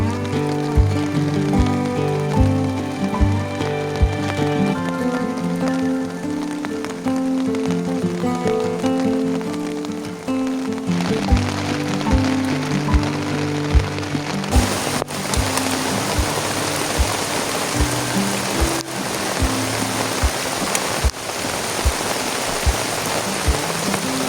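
Rain falls in a wet forest at a solo campsite as a continuous dense patter, with scattered sharper drops on nearby surfaces. Some faint tonal background runs underneath, and no one speaks.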